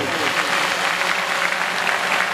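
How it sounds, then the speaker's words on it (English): Audience applause rises at a college prize distribution ceremony honouring a top student, a dense, even wash of clapping that fills the whole short stretch. "please, a huge round of applause for Varta Batul"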